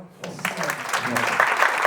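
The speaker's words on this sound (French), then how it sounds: "On peut applaudir." Audience applause following a closing speech at a French event, a steady broadband clapping that rises after a brief quiet start and holds dense and fairly loud to the end.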